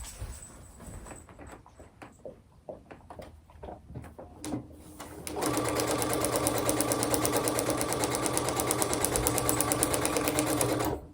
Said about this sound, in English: I'm going to turn it over and sew down line number